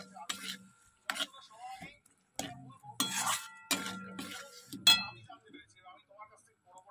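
Green peas curry with salt, sugar, chilli powder and turmeric being stirred and sautéed slowly in a wok over low heat. Irregular metallic scrapes and clinks of the spoon against the pan come in short bursts.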